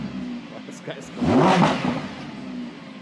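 A Lamborghini Huracan sports car engine revs up sharply mid-clip, a loud rising roar peaking near the middle before settling to a steady idle, with people talking over it.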